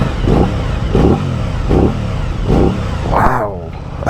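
A 2023 Aprilia RS660 motorcycle engine revs in a deep, grunting rhythm, about five throttle blips in quick succession, close and loud, with a rising surge near the end.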